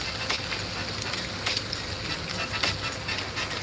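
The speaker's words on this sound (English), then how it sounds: "That sizzle speaks louder than words." Beef sizzles on a hot grill with a constant crackling hiss and occasional sharper pops, close and steady.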